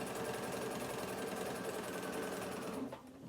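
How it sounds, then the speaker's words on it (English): Sewing machine stitching fabric with jumper thread near a fold, a steady rapid mechanical stitching hum running loud and continuous before slowing near the end. "So I'm using a jumper thread because it doesn't like to sew on nothing."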